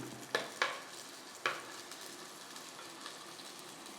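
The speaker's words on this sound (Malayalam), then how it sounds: "കറിവേപ്പില അതിനകത്തോട്ട് ഇട്ട് കൊടുക്കുകയാണ്" Curry leaves hit hot oil in a pan for a Kerala-style mackerel curry, giving a few sharp crackling bursts that settle into a faint, steady sizzle close by.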